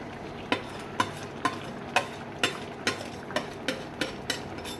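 A spoon stirs a mixture of masoor lentil and fried egg crumbles in sizzling oil, scraping the pan in regular strokes about twice a second over a constant frying hiss.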